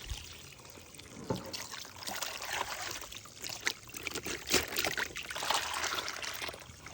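Water and river sediment from a gold-bearing clay site pour into a large gold panning pan, a close, uneven splashing and trickling with gritty bursts over several seconds.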